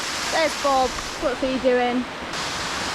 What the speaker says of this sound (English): There's the waterfall behind me.